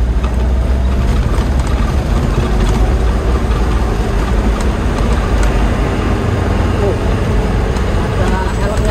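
The diesel engine of an Isuzu Elf NHR 55 short truck drones steadily and loudly from inside the cab while it pulls away in third gear on a busy road. Someone talks over the low engine noise.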